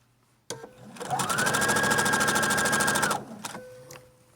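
A sewing machine back stitches along the seam of a fabric zipper pouch, a steady rapid whirring hum that starts up, runs for about two seconds and stops, close and clear without talk.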